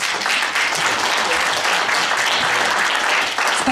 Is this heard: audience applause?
yes